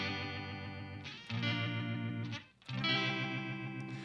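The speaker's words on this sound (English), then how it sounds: "if we max out the speed, it gets into this weird, almost ring-moddy tremolo sound" Sustained electric guitar chords through a Uni-Vibe pedal at maximum speed, giving a fast, choppy, metallic, almost ring-modulated tremolo warble, with a brief drop-out midway before the chord rings again.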